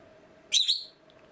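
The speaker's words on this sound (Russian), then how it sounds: "И желтый попугай." One short, sharp double chirp from a small yellow pet parrot rings out close by in a quiet indoor room, then fades back to low background hum.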